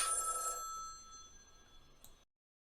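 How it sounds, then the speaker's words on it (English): A telephone bell rings once in a loud, close burst, then trails off into a long fading hum, with a faint second chime before it cuts to silence. "you get the phone ring"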